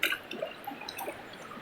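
Fresh, cold river water flows in a steady, soft trickle with light dripping and gurgling, close by and fairly quiet, with no voices.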